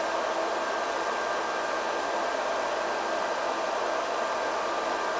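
An air cooler fan with a double ice lattice runs at full speed, giving off a steady, loud, unbroken whoosh of rushing air that holds constant from start to finish.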